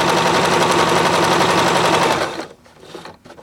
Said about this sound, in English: And we're going to sew all the way down.